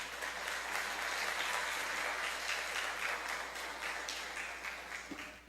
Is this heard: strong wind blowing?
no